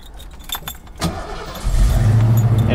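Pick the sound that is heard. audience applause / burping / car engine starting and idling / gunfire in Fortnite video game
car engine starting and idling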